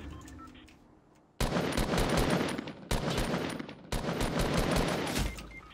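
Bursts of gunfire in a Fortnite match, three loud dense volleys of rapid shots separated by short gaps, following a quieter stretch at the start.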